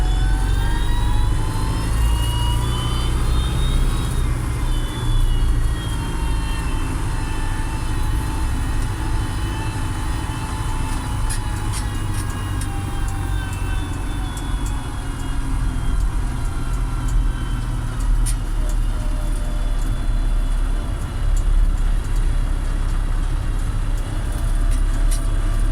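A heavy MB Trac 900 Turbo tractor engine drones steadily throughout, a low rumbling motor with a rising and falling whine as it labors, no voices.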